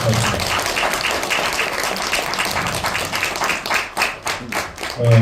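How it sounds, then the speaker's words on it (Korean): An audience at a poetry book launch applauds after a traditional Korean drum opening performance. Many hands clap in a loud, dense burst that thins into uneven, fading claps near the end. "무대에 박수 한번 부탁드립니다"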